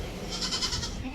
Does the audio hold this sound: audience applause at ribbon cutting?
no